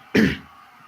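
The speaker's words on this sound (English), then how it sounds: "Let me cough." A single sharp cough bursts out close to the microphone, loud and brief, then trails off into near silence.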